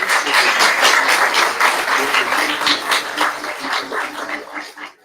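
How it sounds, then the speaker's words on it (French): Audience applause for the Prime Minister of Senegal at a cheque-handing ceremony, a loud, dense round of clapping that carries on steadily with voices mixed in, then fades at the end. "On l'applaudit très, très fort."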